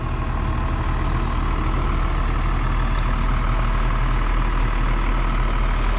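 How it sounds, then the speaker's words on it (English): Steady, loud diesel drone from a 2005 Safari Cheetah 36PDD Class A motorhome with a Cat 350 engine, running continuously with a low rumble throughout and no talk. "Motor sounds awesome."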